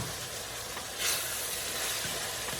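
Ackee and saltfish with black pepper being stirred in a hot pot: a close, continuous sizzle and hiss that swells briefly as the food is moved, without any talking.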